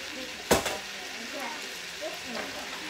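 Sausages frying in a pan for breakfast give a steady broadband sizzle, with one sharp utensil clack early on and a few soft pan knocks over the continuous hiss.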